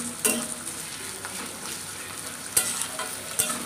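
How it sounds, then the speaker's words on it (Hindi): Onions with a pinch of salt fry in a pan, a steady close sizzle broken by a few sharp stirring scrapes and clinks of a spoon. "प्याज को लाइट ब्राउन कलर जैसा फ्राई करेंगे, ज़्यादा फ्राई नहीं करेंगे"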